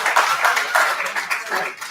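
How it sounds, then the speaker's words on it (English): An audience at a meet and greet for football MVP Doug Williams claps in brief uneven bursts, a short close round of hand clapping that rises and tapers over a couple of seconds. "Come on, give him a round of applause, y'all."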